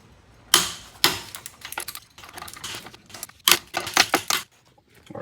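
An impact wrench tightens the wheel lug nuts on a 1999 Dodge Intrepid in several short, loud rattling bursts separated by brief quiet gaps, close up and without talk.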